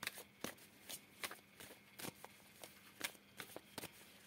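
Tarot cards being shuffled for a reading, a series of soft, crisp riffling flicks repeating at an irregular pace, fairly quiet and close, with no talking.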